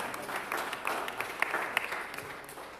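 A church congregation applauds a couple celebrating their 40th wedding anniversary during a Sunday service, steady moderate clapping that stays fairly quiet and even throughout.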